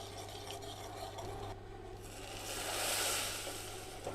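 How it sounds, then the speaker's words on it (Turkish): Thin vermicelli toasting in a pan for carrot soup, a dry scraping and rasping stir against the pan that swells louder near the end, close up with no voices. "Üzerine tel şehriye kavuruyorum."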